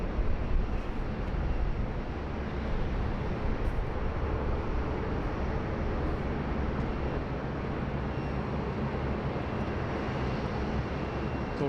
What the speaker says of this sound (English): departure there from the A380